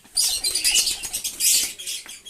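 Fancy pigeons give bursts of bright chirping and cooing with flapping wings, fairly close and fluttering in uneven waves, with no talk.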